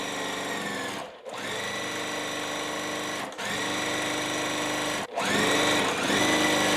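A sewing machine stitches a quilt block piece in steady, whirring runs, stopping briefly three times before starting again, close and loud with no voices.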